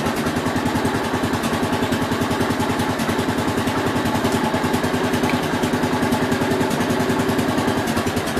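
A 1967 430's engine runs with a fast, even, pulsing beat, loud and close, holding a steady rev throughout with no talk over it.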